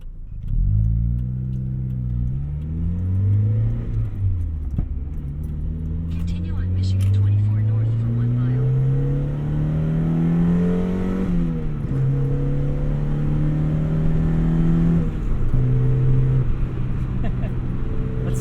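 A 1991 Mazda Miata's engine revs up through the gears, each climb in pitch broken by a quick drop as it shifts, steady and close, with someone talking over it.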